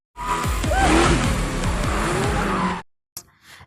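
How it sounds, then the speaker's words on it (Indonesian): A car chase in a film, with a turbocharged car racing hard: a loud, roaring engine revs up and down over screeching tire squeals for nearly three seconds. The sound cuts out abruptly, then a brief, fainter burst follows. "Mereka berusaha mengejar mobil Josh, namun turbo Josh sangatlah kencang dan mahir mengemudi mobil"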